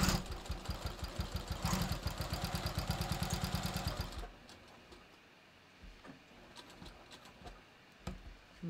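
Sewing machine stitching fabric around the corners of a bathrobe, a fast steady mechanical whir for about four seconds, then stopping and leaving quieter handling noises, close by with no talking.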